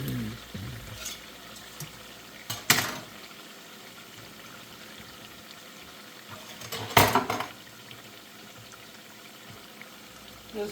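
Shoestring fries sizzling in oil in an old, deep Fry Daddy fryer, a low, steady bubbling hiss broken by two loud clattering bursts, faint and close.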